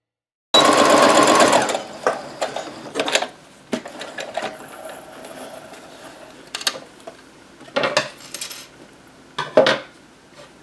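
A sewing machine stitches down the sides of a flying geese quilt block in loud bursts, a fast rattling hum starting abruptly, then shorter runs separated by pauses and small clicks of fabric handling.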